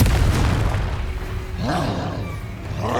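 A roaring explosive blast from the Confringo spell in Hogwarts Legacy, a deep rumbling boom that swells, dips and swells again over about three seconds, loud and close with no talk.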